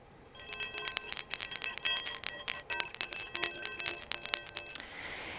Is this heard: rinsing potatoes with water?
no